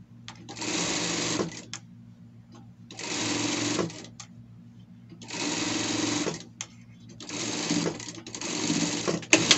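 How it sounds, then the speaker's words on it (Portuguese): A sewing machine runs a safety seam on a costume piece in four or five bursts of rapid stitching, separated by short pauses, close and clear with a little quiet handling between runs. "Aqui passamos uma costura de segurança."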